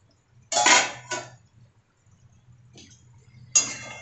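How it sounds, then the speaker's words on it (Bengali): Cooking pot lid lifted off a simmering pot of pointed gourd in a home kitchen, giving two close metallic clinks and scrapes, followed by a quieter pause and another sharp clatter of the lid. "ঢাকাটা খুললাম।"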